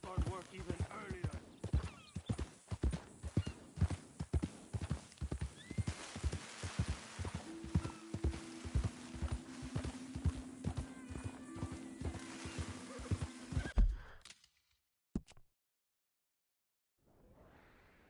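Horse hooves clip-clop steadily in a video game, a regular close rhythm of hoofbeats with a whinny, a sustained tone joining midway, before cutting to near silence.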